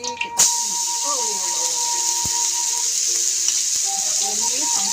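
Shallots and garlic fry in a pan for stir-fried papaya leaves, a steady close hiss and crackle of oil throughout, with a sharp clatter at the start and a person speaking over it.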